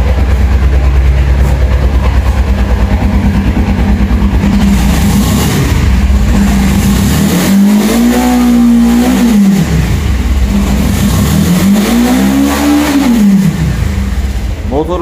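Suzuki Inazuma GW250F twin-cylinder motorcycle with a throttle fault and likely one cylinder dead, running rough close by, with a steady uneven idle and two slow rev rises that swell and fall, while a person talks over it.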